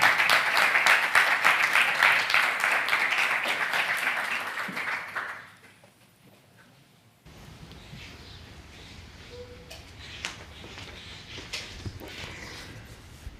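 Dense applause from an auditorium audience welcoming a speaker to the stage at a closing session, loud and steady for about five seconds before dying away, then faint room noise and scattered sounds.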